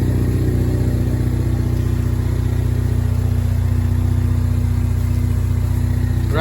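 A 2015–2019 Ford Mustang EcoBoost with a stage 3 intake, intercooler and downpipe runs steadily and loudly close by, a constant low engine drone with no clear rev peaks.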